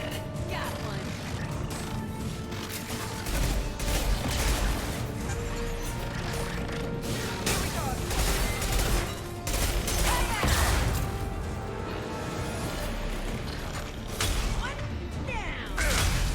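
Dense, continuous gunfire from a Mass Effect 2 firefight, busy and loud throughout with mechanical clatter and sharp bursts, mixed with game effects and occasional talk.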